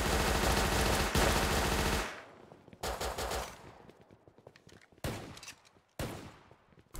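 Gunfire in an S&box Half-Life-style deathmatch video game: a sustained, loud burst of rapid automatic fire, then several separate sharp shots and short volleys with decaying tails, no voices.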